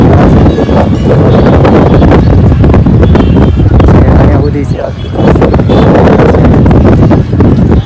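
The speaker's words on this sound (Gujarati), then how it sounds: "હવે પવન બહુ છે ત્યાં પવન સારો આવે છે" Strong wind at an outdoor Sheetala Satam fair in Gujarat roars and buffets the microphone almost nonstop, a loud rushing blast that dips briefly before surging back.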